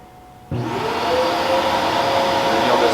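An AlterG anti-gravity treadmill switches on with a sudden whoosh, settling into a loud, steady vacuum-like roar with a faint whine, close by.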